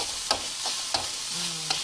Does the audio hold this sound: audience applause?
no